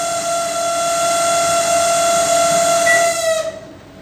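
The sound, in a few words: abnormal noise from an LG 20-litre microwave oven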